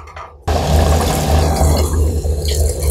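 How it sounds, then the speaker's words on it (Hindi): A glass of water is poured into a pot of chicken biryani, bursting in after a brief quiet moment as a loud, rushing splash that continues steadily to the end. "इसमें 1 गिलास पानी शामिल कर दूँगी।"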